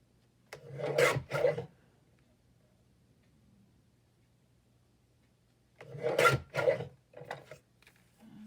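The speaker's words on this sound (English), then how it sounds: "and cut a couple smaller strips" Paper strips are cut for a Christmas journal, two short bursts of rasping, scraping cuts near and fairly loud, separated by a quiet pause, with a faint low hum underneath.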